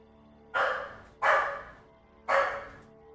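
Dogs bark indoors in three sharp, loud barks spaced about a second apart, each fading quickly, with no talking over them.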